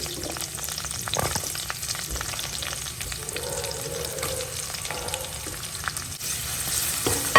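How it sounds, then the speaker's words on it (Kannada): Chopped large onion frying and sizzling in hot oil in a pan, with steady crackling and occasional stirring clatter, close and continuous, no talking. "ಈರುಳ್ಳಿಯನ್ನು ಚೆನ್ನಾಗಿ ಹುಟ್ಕೊಳ್ಳೋಣ ಕಲರ್ ಚೇಂಜ್ ಆಗುವವರೆಗೆ"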